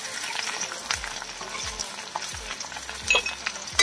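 Onion with crushed ginger and garlic fries in a pan for chicken curry, making a continuous close sizzle broken by several sharp scrapes and clanks as it is stirred.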